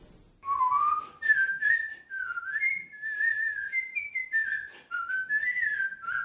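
A Russian artistic whistler imitates nightingale trills, a long, clear, continuous run of warbling, gliding high notes with brief breaths between phrases, close and loud with no speech.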